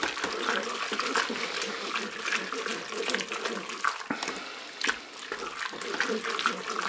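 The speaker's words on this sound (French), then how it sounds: "Je mélange." Tagliatelle with chorizo and tomato paste being stirred in a Cookeo cooker, wet squelching and scraping sounds close by with a voice speaking briefly.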